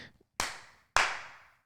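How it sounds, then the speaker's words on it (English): Two sharp hand claps, close and loud, spaced about half a second apart, each ringing briefly in a small room after a short quiet pause. "Oh, that you do just actually clap."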